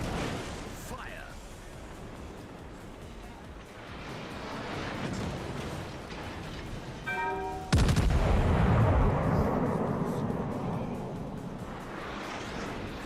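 Naval guns fire in World of Warships, a long low rumble of battle ambience building until a sharp, loud salvo crack hits, followed by a sustained booming roar that slowly decays, with a voice speaking faintly beneath.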